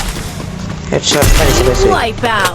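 A sniper rifle fires in the Free Fire battle royale game, a heavy booming shot with a rolling tail. Excited talk from the player sits under and after it.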